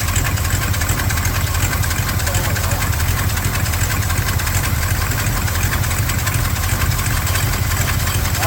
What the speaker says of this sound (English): It's starting, it's running, it's idling.